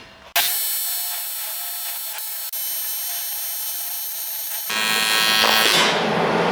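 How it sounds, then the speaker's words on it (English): Steady, harsh buzzing hum of a TIG welder arc on aluminum, loud and continuous, with a brief break and a rougher crackling burst near the end as the tungsten touches the aluminum. "Did you hear me touching my tungsten to the aluminum?"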